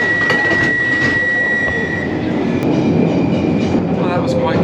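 A London Underground train pulls away from Charing Cross station with a continuous rumble and rattle, overlaid by a steady high tonal whine and intermittent clicks.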